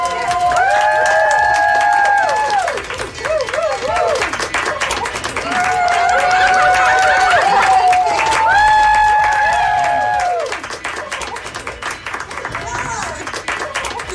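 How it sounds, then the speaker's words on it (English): Nurses applaud a COVID-19 patient as he leaves the ICU: sustained loud clapping and cheering from a group, with whoops and voices rising over it, swelling twice before easing off. "And then as they leave, they all applaud for him."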